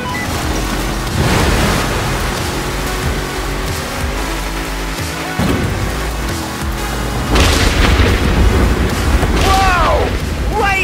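Rain falling and thunder booming in the Forza Horizon 4 racing game, with a steady wash of rainfall and deep rumbling bursts that swell near the start, middle and end of the scene.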